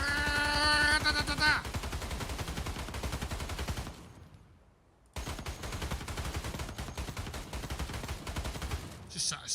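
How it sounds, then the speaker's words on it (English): Celebratory rounds fired from a gun in Escape from Tarkov, a loud, dense run of rapid shots that breaks off into a short pause, then resumes for several more seconds before tapering out. "let's set off some celebratory rounds with this little fella"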